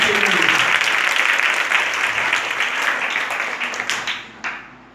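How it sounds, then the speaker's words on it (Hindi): A church congregation claps loudly together in praise, a full crowd applause that holds steady before thinning out and dying away near the end, with a voice faintly audible beneath at the start. "जोरदार ताली बजाएंगे अपने प्रभु यीशु मसीह के लिए।"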